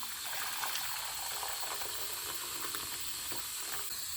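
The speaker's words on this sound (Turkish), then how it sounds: "Üzerine sıcak su dökün." Hot water pours steadily into a pot with a sizzling, hissing rush that stays even throughout.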